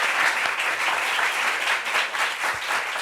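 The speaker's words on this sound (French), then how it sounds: "On applaudit pour elle." Studio audience on a French talk show applauds a guest, a continuous wash of many hands clapping at an even, moderate loudness throughout.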